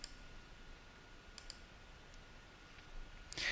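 Computer mouse clicks while working in accounting-style software, heard as a few sparse, faint, sharp clicks spaced apart over a quiet room hush, with a slightly louder click near the end.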